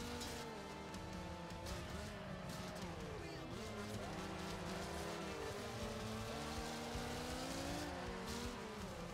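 Cars racing in the video game Wreckfest, with the player's small car losing grip: a continuous loud engine drone with shifting pitch, joined by tyre noise.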